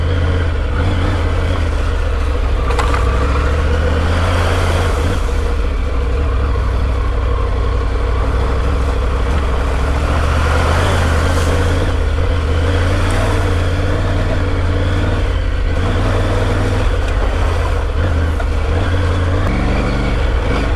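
Triumph Tiger 900 adventure motorcycle riding off-road over rocky ground, a steady loud engine drone with rising and falling throttle surges and rough rumbling from the terrain throughout.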